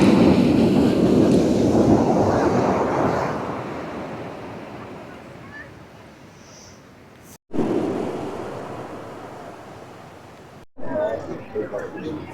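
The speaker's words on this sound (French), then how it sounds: "ça provoque ces si grandes vagues" Large ocean waves break on a beach in a loud, continuous roar that swells and slowly ebbs, with wind buffeting the microphone and two abrupt cuts before the surf surges back.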